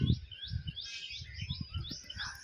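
Birds by a village river chirp and tweet in quick repeated high calls as they leave their nests, moderately close, with low rumbling background noise beneath.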